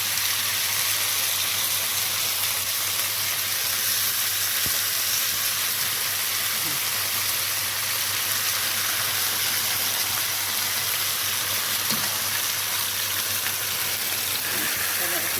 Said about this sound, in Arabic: هنسمي اسم الرحمن وهنحط شاورما اهو